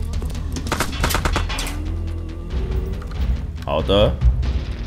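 Rapid gunfire bursts and a heavy blast from an exploding oil barrel in the zombie-and-dinosaur shooter Time Carnage, loud and close, with excited talk running over the shots.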